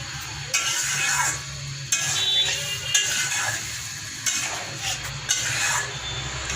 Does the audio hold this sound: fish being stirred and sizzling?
yes